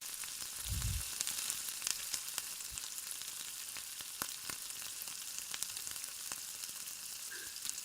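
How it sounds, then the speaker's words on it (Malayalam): Chicken pieces fry in a pan with a constant hissing sizzle and scattered crackles, plus a low scraping knock near the start as they are stirred. "ഈ ചിക്കൻ നമ്മൾ കുറച്ച് സമയം ഇതുപോലെ ഒന്ന് ഇളക്കി കൊടുക്കണം"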